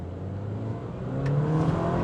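A 2015 BMW 316i Sports engine revving after a quick stab of throttle in Sport Plus mode with traction control off: a low hum that rises in pitch and grows louder over about two seconds, close up.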